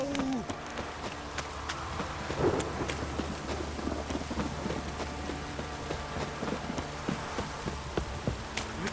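Rain and rolling thunder in The Witcher 3, a steady downpour hissing throughout with low thunder rumbling underneath and scattered sharper drops and clatters, no talking.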